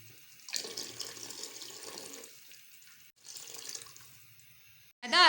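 A flour and water mixture pours into beef nihari in two runs of soft, steady liquid splashing, close and quiet, followed by a brief louder scrape at the end.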